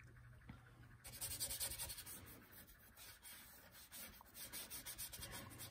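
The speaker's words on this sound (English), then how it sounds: "I'm going to just start by scrubbing this all over the background with a big brush." Dry, rhythmic scrubbing of a big brush working dark green paint over a painting's background, repeated close strokes rising and falling steadily with no talk.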